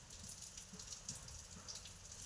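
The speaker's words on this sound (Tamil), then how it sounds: "நல்ல ஊர் தான் நல்ல மழை" Steady rain falls with a soft, constant patter of drops, faint and even throughout.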